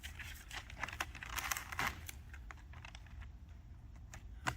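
Backing paper peeled off a Sound Assassin sound deadener sheet on a Ford Bronco roof gives soft crinkling and tearing crackles, close but faint, with scattered small ticks and no voices.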